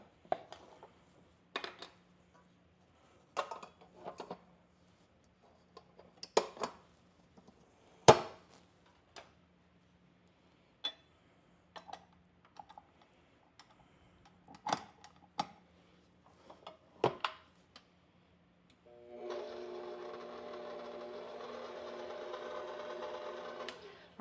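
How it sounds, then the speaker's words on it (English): A few scattered sharp clicks and knocks come first. Then a stand mixer starts on low speed, kneading honey wheat bread dough with a steady, fairly quiet motor hum for the last few seconds. "We're going to put this on our mixer and we're going to knead it on low speed for about 10 minutes."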